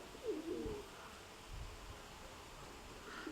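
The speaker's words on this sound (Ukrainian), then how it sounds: "Ряба голубочка." A speckled pigeon hen gives a brief low coo early on, faint against a quiet background hum.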